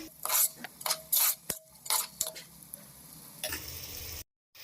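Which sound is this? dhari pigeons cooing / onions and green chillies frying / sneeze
onions and green chillies frying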